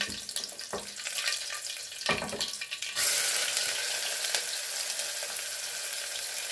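Fish sizzling in hot oil with curry leaves and onion in a pan, a few clattering stirs and bumps, then a steady loud frying hiss that swells and carries on alone.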